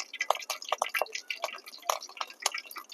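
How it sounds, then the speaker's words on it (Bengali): Mustard oil is poured over a raw mango pickle with garlic and chilies, giving close, quick wet dripping and spattering ticks in an irregular patter, with no talking. "আমি সরিষার তেল দিয়ে দিলাম।"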